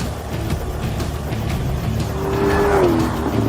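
A Ford Falcon drives at high speed with a steady, loud engine and road roar, and a brief rising whine or tire squeal near the end.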